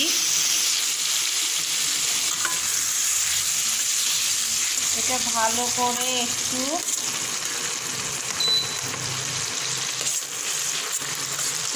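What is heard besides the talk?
chopped onions frying in hot oil in a wok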